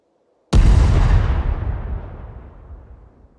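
A hand grenade detonates in the survival game SCUM: one sudden, loud, close blast that hits at once, then a long rumbling decay fading over about three seconds, with no other sound around it.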